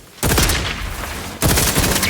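Gunfire in the video game The Outer Worlds 2 comes as two loud, dense bursts of rapid shots, one right after the other, with a brief dip between them.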